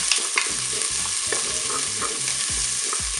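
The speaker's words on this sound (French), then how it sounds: "mon huile est chaude, je vais pouvoir mettre mes oignons et puis j'ai rajouté un peu de gousse d'ail" Onions and garlic cloves frying in hot oil in a Cookeo pot, with a loud continuous sizzle and repeated close stirring clatters over it.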